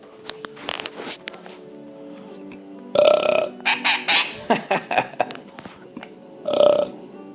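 A sun conure parrot makes short burping sounds, several quick sputtering bursts close to the mic, with quiet stretches between and faint voices in the background.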